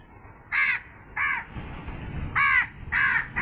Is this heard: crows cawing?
yes